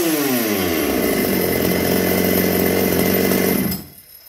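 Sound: ported Shindaiwa 757 chainsaw running

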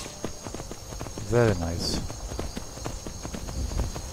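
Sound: horse hooves galloping in Skyrim video game

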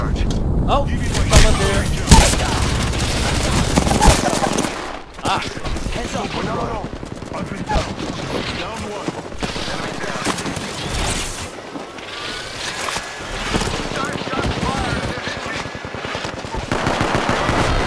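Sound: gunfire in the video game Apex Legends

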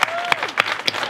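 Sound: round of applause

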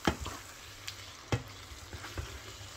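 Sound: frying spiced beef mince with vegetables in a pan

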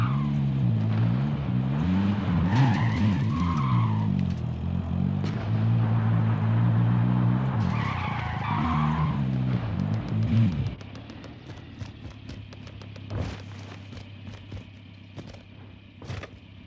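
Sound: vehicle driving and skidding in video game Call of Duty Warzone

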